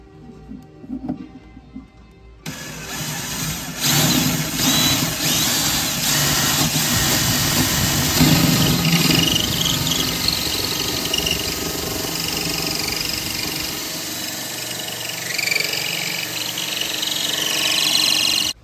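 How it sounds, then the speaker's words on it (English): A continuous, loud motor drone with a grinding edge from a hole saw drilling through an aquarium runs close by for the whole stretch, after a short quieter moment of faint handling noise. "So I'm gonna use a hole saw to do this"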